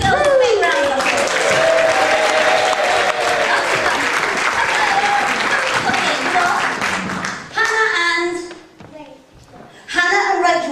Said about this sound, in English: let's give the girls a big round of applause